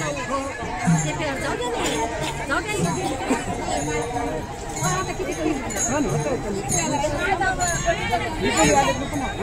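A crowd of pilgrims at a procession chattering together, a dense steady hubbub of many overlapping voices close by with occasional clinks.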